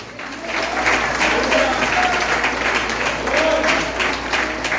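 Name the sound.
congregation applause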